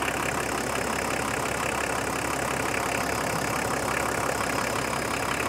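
A Nissan Patrol GR engine idles steadily with the radiator bleed screw open during coolant purging, a constant, even rumble with no talk.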